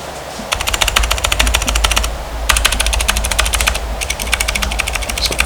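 Fast clicky typing on a mechanical keyboard with Cherry MX Blue switches and SA profile keycaps comes in sharp rattling bursts with brief pauses between runs, close and loud.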